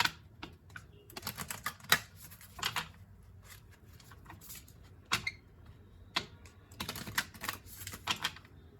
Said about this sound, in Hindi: अब यहाँ पर मेजर अर्कानास को भी शफल कर लेते हैं